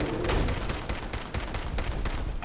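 A short pipe rifle fired in the video game Fallout 4: a rapid burst of loud gunshots in quick succession, dense and close, with no talk over it.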